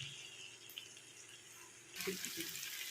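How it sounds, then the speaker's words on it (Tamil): Water runs from a tap and splashes into a pan of sautéed ingredients for drumstick kara kuzhambu, starting faint and growing louder and fuller near the end, with no talking. "இப்போ தேவையான அளவுக்கு தண்ணி ஊற்றிக்கலாம்"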